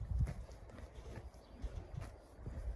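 Hooves of a mare clop across the ground near her newborn foal on a horse farm, a few soft uneven steps over low rustling, close by, with no talking.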